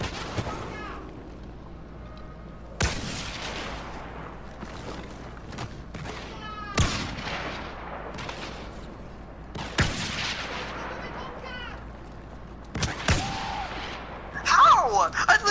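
Blaster gunfire in a Star Wars shooter game, sharp bursts of shots at irregular intervals, some crackling and echoing, with a player talking between them and a louder flurry near the end.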